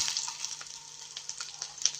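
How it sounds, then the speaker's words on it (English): Onion and garlic frying in a pan for a sweet and spicy chicken pasta, a steady close hiss and sizzle with small crackles throughout, no talking. "I'm adding all of that onion, garlic, and we're frying."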